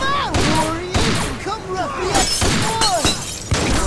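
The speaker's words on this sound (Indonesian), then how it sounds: "terus lempar dia pakai botol." In The Warriors on PS2, thrown bottles smash with sharp glassy crashes, several breaks in irregular succession amid loud game combat noise and overlapping voices.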